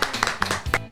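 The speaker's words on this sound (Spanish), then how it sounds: "Un aplauso para el comando." A few scattered hand claps on a Spanish-language talk show, close and fairly loud, with individual sharp claps spread unevenly across a second.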